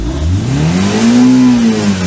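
A car engine revs steadily up to about 7,500 RPM, its pitch climbing into a loud, close, rising howl that holds near the top.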